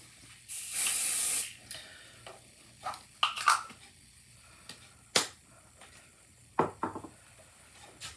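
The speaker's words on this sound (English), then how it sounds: "I'm just going to spray a thin layer on the back side of the stencil." Pixie Spray adhesive misted onto the back of a paper stencil for card making: one close, loud hiss of about a second, followed by soft tabletop taps and handling clicks.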